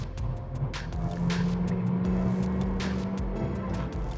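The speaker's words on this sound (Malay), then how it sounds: "untuk eco mode, kita nampak masuk je eco mode, dia dah changing gear, dia drop satu gear" A 2022 Honda Civic FE engine in eco mode drops one gear, heard as a steady, close engine drone whose pitch shifts mid-clip. The engine runs continuously with no talk.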